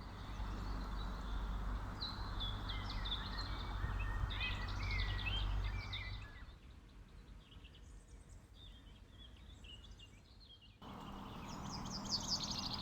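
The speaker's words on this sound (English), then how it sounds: "Birds often sit on the top of trees, facing the setting sun, singing their final song of the day" Birds sing at sunset from treetops, several high chirping and warbling phrases over a steady low outdoor rumble, fading to quieter ambience midway before the song resumes.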